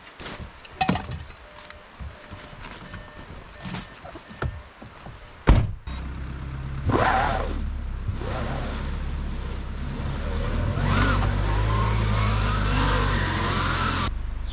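A car stuck in snow at a winter camp, its engine revving in long rising surges after a few knocks and a sharp thump, the strained drone building and holding loud toward the end.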